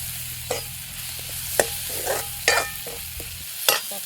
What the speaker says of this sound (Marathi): आता आपण सगळं मिक्स करून घेतलेले आहे.